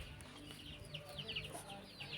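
A Kadaknath hen makes a run of soft, short clucks and chirps close by, faint but clear over a quiet room, with a burst of several quick calls in the middle.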